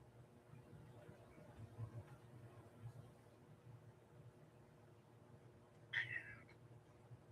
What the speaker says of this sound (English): Hey, Buggy, come get your kitty